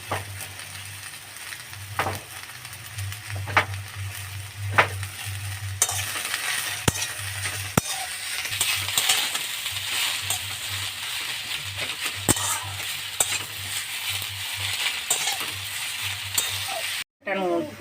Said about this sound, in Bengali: নেড়ে চেড়ে পেঁয়াজটাকে আমি ভেজে নিচ্ছি